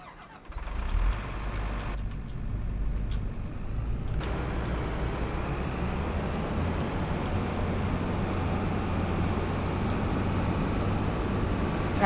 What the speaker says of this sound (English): Do some dump truck work.